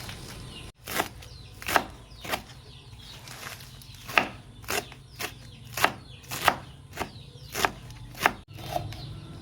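Chicken feed ingredients are sliced thinly by hand on a board, a series of crisp, close chopping knocks spaced roughly every half second, with quieter rasping between strokes.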